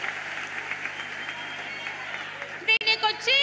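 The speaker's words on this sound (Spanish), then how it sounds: "¡Un fuerte aplauso para todas!" Applause from an audience at a women's celebration gathering, steady and moderately loud, with a voice breaking in near the end.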